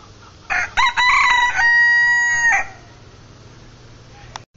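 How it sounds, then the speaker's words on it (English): A rooster at a forest hostel crows once, loud and close: a few sharp opening notes and then a long drawn-out call, followed by quiet. "This is Frank, the abominable snow chicken."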